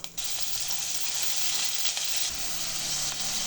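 Onions crackle and sizzle steadily in hot oil after cumin, a close, continuous frying hiss with no voices.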